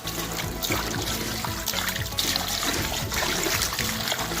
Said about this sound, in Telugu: నీళ్ళు పోసుకొని నీట్గా కడుక్కుందాం